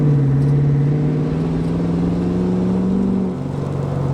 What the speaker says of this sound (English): This is like half throttle.